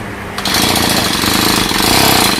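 A small Honda petrol engine that has sat unused fires up and settles into a loud, steady, rattling buzz that runs without a break.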